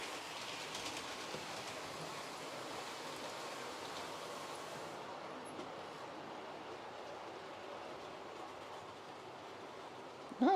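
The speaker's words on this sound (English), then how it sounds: "That's the other thing with the older engines. They seem to be very noisy." An older model train engine runs along the track with a steady, noisy rumble and hiss that stays constant, then trails off near the end.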